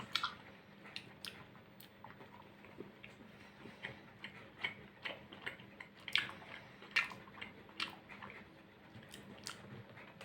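Milka Caramel Cream milk chocolate is chewed close up, with soft, irregular crunchy and sticky mouth sounds repeating over a quiet background.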